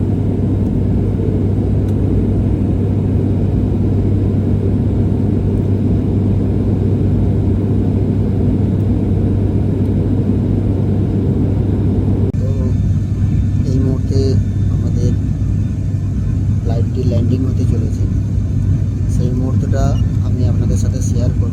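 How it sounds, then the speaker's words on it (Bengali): Inside the cabin of a passenger airplane descending to land at Kolkata in cloudy weather: a steady, loud, low engine drone runs throughout, with a voice talking over it. "এরকম তো আপনারা দেখুন কীভাবে ল্যান্ডিং হয় একটু সময় লাগবে আমরা জাস্ট কলকাতাতে আর কিছুক্ষণের মধ্যেই নামব"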